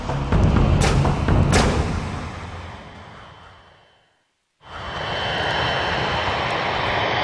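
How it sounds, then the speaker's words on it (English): A damaged, overweight airliner drones loudly on two engines as it approaches to land, a dense roar that fades to silence and then returns steady and strong. "Flight 811 now began its final approach to Honolulu Airport"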